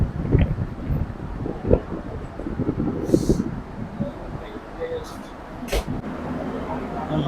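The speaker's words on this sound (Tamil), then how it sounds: "ஸோ இங்க நல்லா காத்து சூப்பரா வருது" Steady wind buffets the microphone on an open deck, a low rushing roar with gusts, while people talk nearby.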